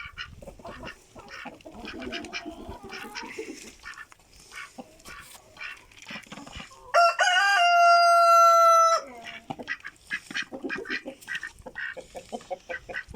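A crowd of ducks and chickens eating feed quacks and clucks nearby, with one long, loud honking call standing out midway before the chatter resumes.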